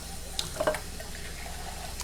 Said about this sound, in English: You drain them and rinse them.